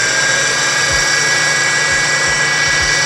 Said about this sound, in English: I want to pulse up half of these nuts